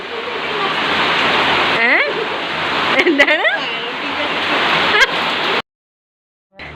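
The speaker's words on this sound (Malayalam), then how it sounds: "നല്ല മഴയല്ലേ രാവിലെ സൺഡേ എന്തായാലും നല്ല മഴയാ രാവിലെ" Dense, steady roar of heavy morning rain pouring down, with a voice speaking briefly over it before the sound cuts off abruptly.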